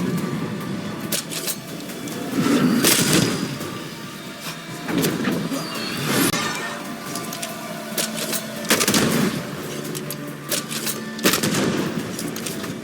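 Gunfire from a fight in the video game Banishers: Ghosts of New Eden, heard as repeated loud bursts spread across the clip against a busy background of other game sounds.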